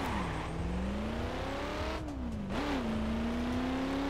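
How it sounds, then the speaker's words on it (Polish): A Cadillac Eldorado engine in the video game The Crew hums and revs steadily, the pitch dropping and rising as it accelerates, loud and close throughout. "To jest nowy samochód, nazywa się Cadillac Eldorado."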